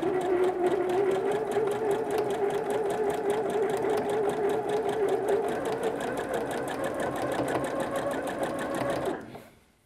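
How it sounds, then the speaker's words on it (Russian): A sewing machine runs a zigzag seam on children's clothing, with a rapid, even stitching patter held close and steady. It stops abruptly just before the end. "Теперь прокладываем строчку прямую либо зигзагообразную."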